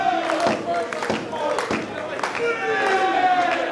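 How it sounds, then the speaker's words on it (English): Wrestling crowd at a Brooklyn, New York pro wrestling match chanting a count in unison, rhythmic loud shouts rising over arena noise with a commentator's voice talking over them. "The crowd continues to count."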